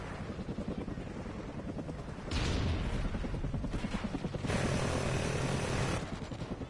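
Rotor roar of a video-game helicopter swells in two loud bursts, mixed with rapid gunfire and booms, over a noisy battle backdrop.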